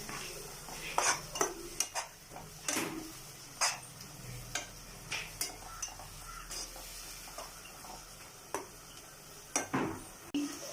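Biryani masala is stirred and mixed in a pot, with intermittent spoon scrapes and clinks against the metal over a faint, quiet sizzle.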